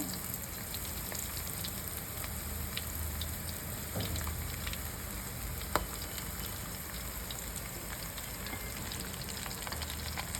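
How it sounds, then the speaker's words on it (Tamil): Breadcrumb-coated prawns fry in hot oil with a dense, even sizzle that holds steady throughout, broken by a few faint crackles and one brief sharp pop, with no voices. "எண்ணெய் சூடாயிருச்சு இப்போ வந்து ஒவ்வொன்றா போட்டுக்கோங்க"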